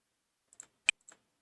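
A few sparse computer keyboard clicks, quiet and isolated: a couple of light taps, one sharper louder click, then another soft pair, with silence between.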